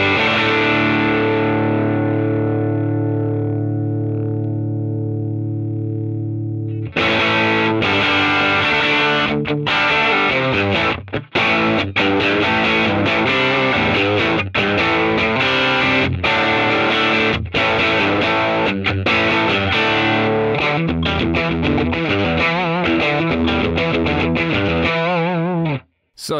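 Electric guitar through an overdriven Fender Tweed amp model on an Axe-Fx III, with mids and treble up: a long sustained chord rings out, then a dense, distorted riff with chugging rhythm plays loudly until a final cutoff.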